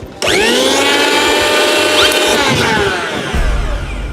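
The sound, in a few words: mixer grinder being tested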